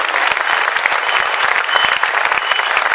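Audience applause at a Hindi poetry recitation, a hall crowd clapping together to complete a poem: dense, steady clapping with sharp individual claps standing out, loud and continuous throughout.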